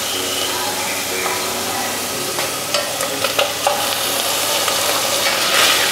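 Tomatoes sizzle in hot oil in a pan for restaurant-style paneer butter masala, a steady frying hiss broken by scraping stirring strokes near the mic, with a voice talking over it.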